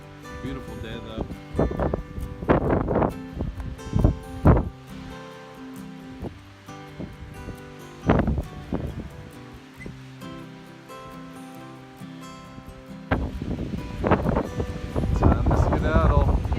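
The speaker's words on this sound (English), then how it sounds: "It's quite windy." Gusty wind at the Lamoille lookout on the Long Trail, buffeting the microphone in uneven rumbling bursts that rise and fall, loud and close, with quieter stretches between the gusts.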